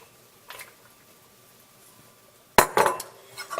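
Seafood chowder with oysters stirred gently in a pot: a faint scrape near the half-second mark, then a louder burst of clinking, scraping utensil-on-pot sounds in the final second, close and alone.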